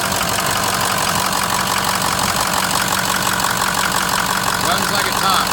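A 2006 Ford F-250 Super Duty with a Power Stroke diesel engine idling steadily, a loud continuous clattering rumble close by with no breaks.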